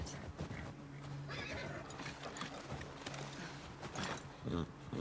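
A horse whinnies in the video game The Last of Us Part II, with hoof clip-clops and faint background voices underneath.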